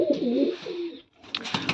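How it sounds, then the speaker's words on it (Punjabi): Pigeons coo softly in low, rolling calls, with a brief pause before a few more close, fluttering coos. "ਹੁਣ ਇਹ ਵੀ ਕਬੂਤਰੀ ਆ"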